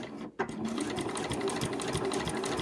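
A sewing machine stitches along the edge of blue binding on an overlocker cover, a steady close whirring hum after a brief pause at the start.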